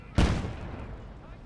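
A single cannon shot from a tank in a wartime tank video game: one sudden, loud boom with a heavy low thump that rolls off into a fading rumble over about a second.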